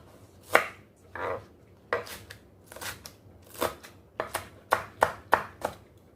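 Green onion is chopped with a knife on a board in a run of about a dozen crisp, close thuds, irregular at first and then quickening into a fast rhythm, with no talking.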